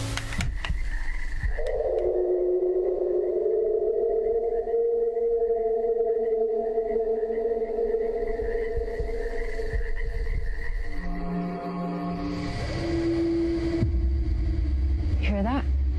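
A recorded Bigfoot howl broadcast from a speaker into a forest: one long wavering, drawn-out tonal cry lasting around ten seconds, then a shorter, lower tone, over a steady outdoor hiss.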